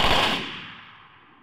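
A single loud gunshot sound effect cracks up front and then fades out over a second with a decaying tail, with no other sounds around it.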